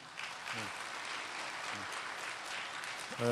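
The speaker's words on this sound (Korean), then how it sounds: "만장일치로 힘차게 좀 박수로 통과시켜 주십시오" Delegates at a metal workers' union congress clap together to pass a resolution unanimously, a dense steady wash of applause with a voice faintly heard beneath it.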